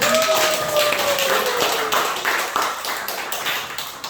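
A church congregation at Sunday worship claps in a brisk, ragged burst of overlapping hand claps, close and lively, with a voice briefly singing or speaking over it.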